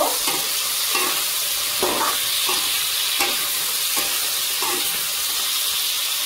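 Chicken meat stirred in a hot pan once the lid comes off, a steady loud sizzle and hiss with repeated scraping strokes of the spoon roughly every second.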